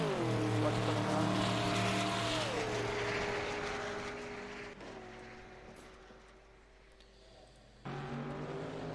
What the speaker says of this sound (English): the Corvette GTE was starting up. What a throaty sound that is.